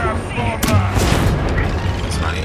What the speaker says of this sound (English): He rolled the grenade on my feet, basically.